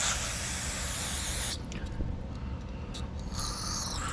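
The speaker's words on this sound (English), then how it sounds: "Use some carb cleaner." Carb cleaner sprays into the carburetor of a Troy-Bilt Storm 2420 snow blower in close, loud hissing bursts: a long spray, a brief pause with small spurts, then another spray.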